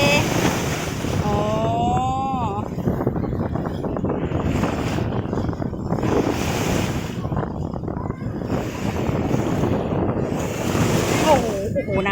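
Surf rolls steadily onto a rainy-season beach, waves washing in continuously alongside heavy wind buffeting the microphone, with brief voices faintly under the roar.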